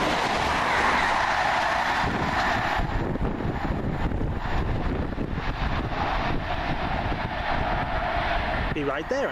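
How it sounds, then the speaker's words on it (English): A passenger train running from London Marylebone to Birmingham Moor Street passes at Seer Green, a loud, continuous rumble and rush of wheels on rails with wind noise, lasting the whole stretch with brief voices in the background. "That'll be 1 Romeo 32 from London Marylebone to Birmingham Moore Street."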